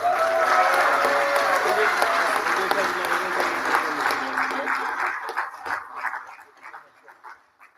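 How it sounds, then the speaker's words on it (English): Applause from the audience for graduates at a manufacturing-careers completion ceremony, a sustained broad wash of clapping that thins into a few scattered claps near the end, with a dog barking and whimpering through the first half. "Let's give another round of applause for all of our graduates."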